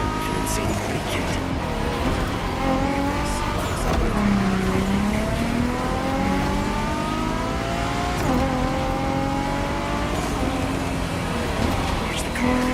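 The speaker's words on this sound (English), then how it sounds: "Nissan GTR with an insane body kit." Nissan GTR with a heavy Bosozoku-style body kit racing in The Crew Motorfest, engine revving steadily up and down through gear shifts, loud and close, with someone talking over it.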